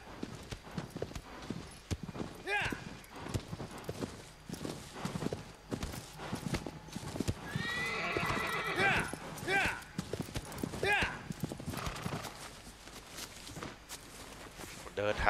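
In the video game Shadow of the Colossus, a horse's hooves clop steadily through a forest in a walking, uneven rhythm, loud and close, while someone talks over them.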